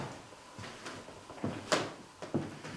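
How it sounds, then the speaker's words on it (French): An old door in the Château de Veauce opens with a few faint knocks and soft creaking bumps, scattered and fairly quiet against a hushed room background. "Une porte qui s'ouvre."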